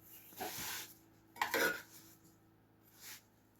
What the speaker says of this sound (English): I take my spatula and I'm actually going to flip this over